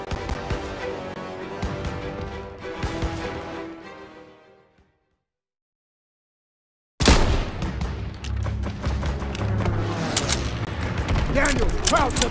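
Bursts of rifle and machine-gun fire in a Call of Duty WWII street battle, rapid crackling volleys that stop into near silence for a couple of seconds, then resume heavier with booms and shouted voices.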